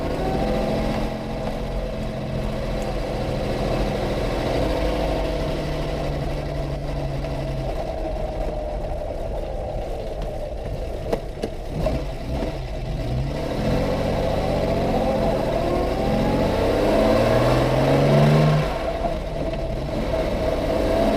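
A 1954 Lancia Aurelia B20 GT S4 classic car pulls away down the road, its engine droning steadily from inside the cabin and then rising through a rev change near the end, with no talking.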